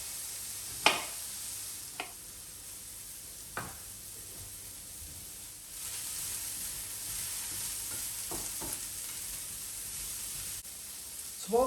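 Chopped broccoli cooking down in a pan, a low continuous sizzle under occasional sharp clicks and taps of a utensil, close and quiet with no voices.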